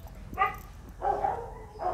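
A thin, yellow, bob-tailed dog gives three short barks and whimpering yips in bursts, close by, eager to be let inside to eat after days of heavy rain.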